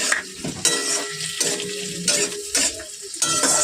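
Onion and garlic frying in a pan for Chinese chili chicken while a spatula stirs them, giving a sizzling hiss broken by repeated metallic scrapes in an uneven rhythm, close by, with no talking.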